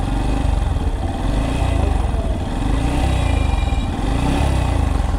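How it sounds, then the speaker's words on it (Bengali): A second-hand Yamaha FZS V3 motorcycle engine runs close by at a steady idle, a loud, even, throbbing putter that continues unbroken for the whole stretch with no talk. "এটা ইঞ্জিনে কী সাউন্ড আপনাদেরকেও শোনাই।"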